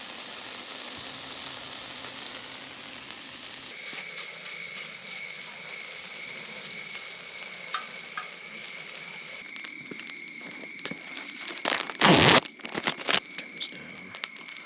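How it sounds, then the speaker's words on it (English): Shrimp cooking on a skottle at a hilltop campground, a soft continuous sizzle with crinkling and a loud burst of crackling near the end, outdoors. "let's get this shrimp cooked."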